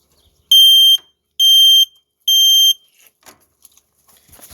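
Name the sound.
Fire Sentry smoke alarm test sounding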